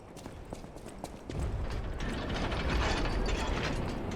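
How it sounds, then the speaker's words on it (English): Enemy saw-blade motors whir and grind in the video game Lies of P, a dense mechanical ratcheting that swells louder after the first second and holds steady and close to the end. "I really like that whirring sound. Ooh, saw blade."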